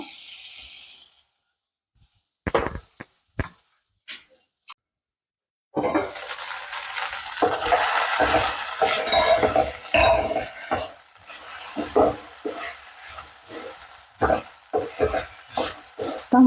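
Ivy gourd and tomato frying and being stirred in a pan with a little oil, a few sharp scraping taps and then a steady close sizzle broken by repeated stirring scrapes.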